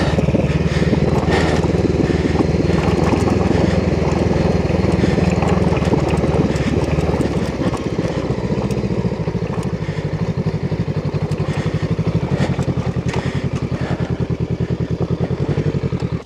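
Honda CL500 motorcycle engine pulling steadily in first gear while riding off-road, a loud, continuous low rumble with slight rises and dips in revs throughout, no voices.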